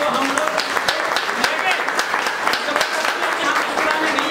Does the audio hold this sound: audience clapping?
yes